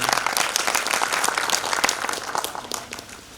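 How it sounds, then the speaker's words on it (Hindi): Enthusiastic audience applause fills a Dehradun poetry celebration honoring poet Shams Deobandi, dense, steady clapping from a large crowd that stays loud throughout, then eases slightly toward the end. "मोहतरम शम्स देवबंदी साहब के लिए ज़ोरदार तालियां बजा दीजिए।"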